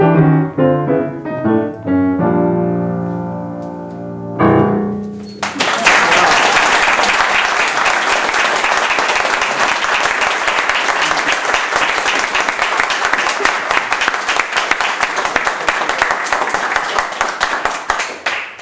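A short sung and piano-accompanied phrase ends, then an audience bursts into sustained applause, many hands clapping steadily and loudly for several seconds in an indoor gathering.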